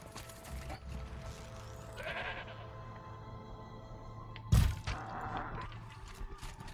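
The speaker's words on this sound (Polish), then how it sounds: "Koza to była." A goat in the video game Horizon Zero Dawn bleats a few times at moderate distance over a game ambience bed, with a sharp brief crack partway through.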